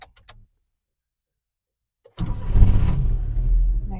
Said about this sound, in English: I'm going to put my foot on the brake and turn on the car.